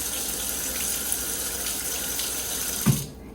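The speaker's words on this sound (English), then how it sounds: "I'm just going to pop some water in here just to keep it moist." Water runs steadily from a pot filler faucet into a pot holding a frozen block of chicken, a continuous loud splashing hiss that stops abruptly with a small clunk near the end.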